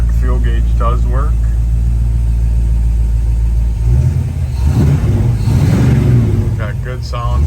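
A 1966 Ford Bronco V8 with dual exhaust rumbles steadily at idle, then revs up with a deep throaty exhaust note, while someone talks over it.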